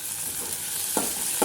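Onion and green chilies frying in a pan, with tomato going in next, making a continuous close sizzle broken by two short scraping stirs near the end; no one speaks.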